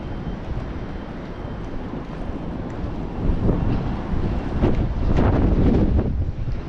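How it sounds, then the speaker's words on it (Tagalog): Strong wind at sea buffets the microphone in a continuous rough roar, with gusts swelling louder partway through. "lakas ng hangin."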